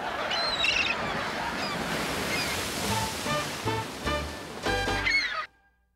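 Steady rushing sea waves breaking on a shore, a continuous loud wash with a few honking bird-like calls mixed in, cutting off abruptly just before the end.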